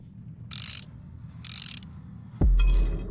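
A ratchet wrench turning in short bursts, each a rapid metallic clicking run lasting about a third of a second, heard twice with a pause between, then a heavier clunk followed by another faster clicking run, close and loud.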